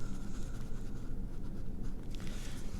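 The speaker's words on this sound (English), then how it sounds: "So now we can erase" A pencil eraser rubbing across watercolor paper in a tulip painting, with steady scratchy back-and-forth strokes close up and no talk.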